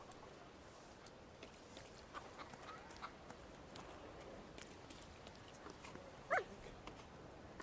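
A dog in a video game lets out a single short bark near the end, over a quiet, faint game ambience with no talking.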